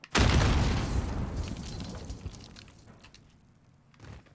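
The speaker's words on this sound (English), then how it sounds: "he's also throwing a grenade at me" A grenade blows up in the Warzone shooter game, one loud close boom that hits suddenly and then rumbles and slowly dies away, with faint small noises trailing at the end.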